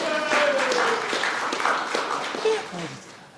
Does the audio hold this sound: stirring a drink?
no